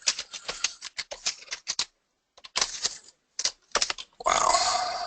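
Computer keyboard typing in quick irregular bursts of clicks with short pauses, close and clear, ending in a louder sustained rustle.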